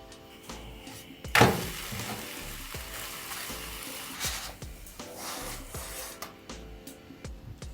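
Pancake batter sizzles and crackles steadily in a hot frying pan. A sharp clatter comes early on, with soft scraping and tapping throughout.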